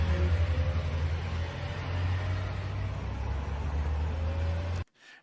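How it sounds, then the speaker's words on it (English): Civilian cars trailing a military convoy on the road to Moscow, heard as a steady, fairly loud engine and road rumble that cuts off abruptly near the end. "And we see some of the civilian cars that the Wagner uses following the convoy."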